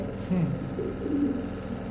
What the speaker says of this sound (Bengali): বিগ সাইজের একটা মাদি কবুতর